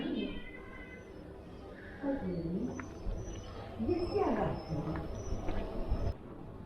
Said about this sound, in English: This whole group of cats climbing this tree.